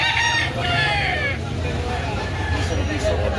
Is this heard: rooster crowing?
yes